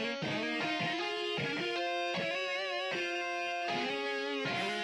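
Evon guitar VST layered with a distorted guitar VST, thick gritty sustained notes moving through a melodic phrase with a few strummed attacks, close and continuous with no voices.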